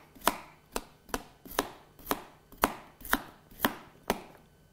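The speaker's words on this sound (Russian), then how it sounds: "Нарезаю салат очень мелко" A knife finely and slowly chopping salad on a smartphone screen, with nine crisp, evenly spaced cuts about half a second apart, each a sharp click with a brief tail, close and alone with no talk.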